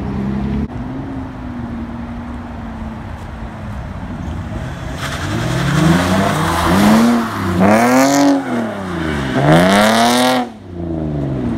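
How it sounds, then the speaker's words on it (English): A car drifting in Mexico, its engine revving hard in repeated rising and falling surges that grow louder and closer, over a steady background engine drone. "You're drifting pretty well."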